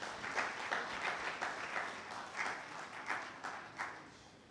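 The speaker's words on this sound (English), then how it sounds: "Can we give another big round of applause" An audience applauds at the opening of a budget dialogue, moderately distant clapping with a few sharper bursts standing out from the steady patter.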